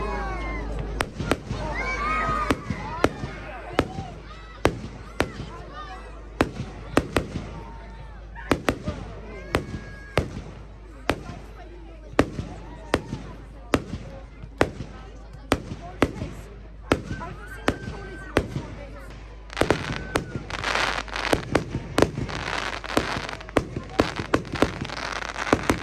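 Fireworks bursting outdoors at a nighttime event, a steady run of sharp booms and crackles, some near and loud, others farther off, over constant background rumble with a crowd murmuring and voices chatting.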